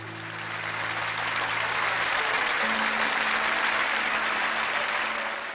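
An audience in a church breaks into applause, a sustained wash of many hands clapping that swells and holds for several seconds before easing off.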